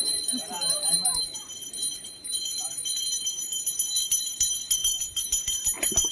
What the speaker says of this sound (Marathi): कंटिन्यू घंटी वाजत राहा